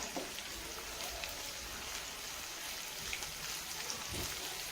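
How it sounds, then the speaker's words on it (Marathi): Finely chopped green chillies frying in hot oil with onions that have turned golden: a steady, soft, even sizzle with faint crackles throughout and no talking. "आता इथं मिरची पण मी तेलामध्ये टाकून घेतलेली आहे"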